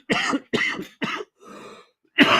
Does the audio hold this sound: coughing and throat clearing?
yes